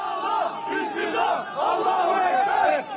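A crowd at an earthquake rescue site in Kahramanmaraş cheers and shouts together as a survivor is brought out after 140 hours, a loud continuous roar of voices rising and falling.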